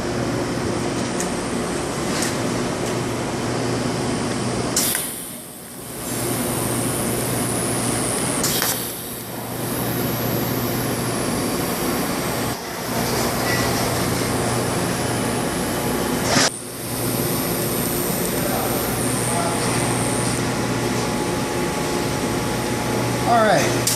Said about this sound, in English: we're just going to go ahead and put some small welds